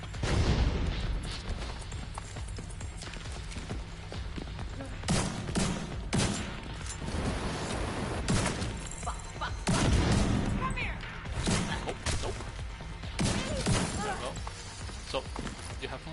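Gunfire in the video game The Division 2, repeated bursts of shots and impacts across a loud combat scene, with ongoing game noise and no clear talk.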